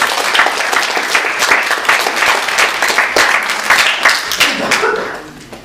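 A church congregation at Sunday worship claps together to celebrate three members' birthdays: a loud burst of crowd applause that holds for several seconds, then tapers off near the end.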